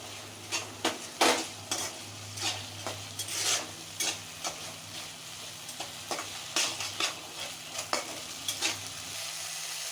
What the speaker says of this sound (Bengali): মশলা ভাজার মধ্যে দিয়ে দিলাম।